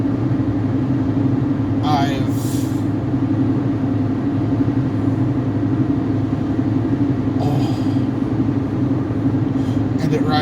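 Steady mid-pitched engine drone and road rumble from a pickup truck cruising along, heard from inside the cab, continuous and fairly loud with occasional faint higher sounds.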